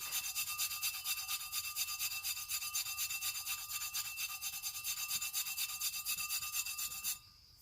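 Rhythmic, steady back-and-forth rubbing of glitter on a surface coated with Aileen's Tack It, a close scratchy swishing repeated quickly for several seconds before stopping abruptly.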